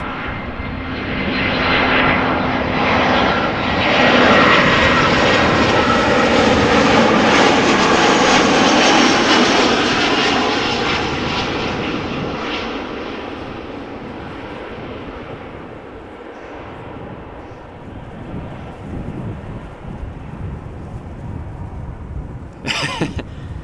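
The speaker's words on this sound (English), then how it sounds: "this A320-200 is 11 years old, had its first flight in March 2012" An Airbus A320-200 airliner, arriving from Malta at Amsterdam Schiphol, roars loudly as it passes close by. Its engine noise swells to a peak, then slowly fades into a distant rumble, and a sharp noise cuts in at the very end.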